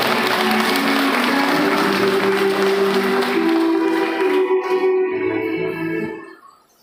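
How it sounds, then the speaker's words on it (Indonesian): An audience at a pesantren parenting gathering claps for the grade 9 students, a dense burst of applause with sustained musical tones beneath it, thinning out and dying away near the end. "Tepuk tangan buat mereka hari ini."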